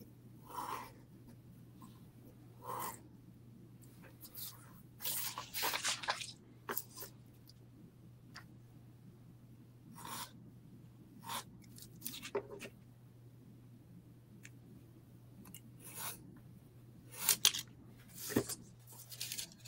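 A fresh hobby knife blade cutting out a paper ghost sign on a workbench, scattered short scratchy slicing strokes and rustles at irregular intervals, close and quiet over a faint steady hum.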